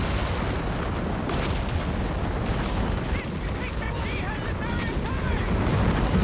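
Creeping barrage artillery fire in the World War II strategy video game Company of Heroes 3, a dense, continuous rumble of blasts and booms, with a commentator talking over it.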